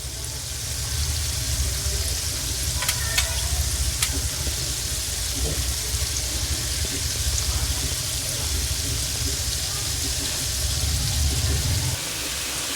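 Gulab jamun balls fry in a pan of oil on a stove over low heat, a continuous close bubbling sizzle with a couple of faint metallic taps early on.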